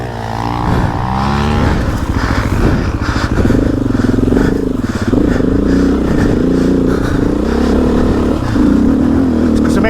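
A loud, close adventure motorcycle engine, one of a CFMOTO 450MT, Honda CRF300L or KTM 690R/500 EXC-F on an off-road ride in Bosnia, revs and accelerates repeatedly, its pitch rising and falling through gear changes with no talk over it.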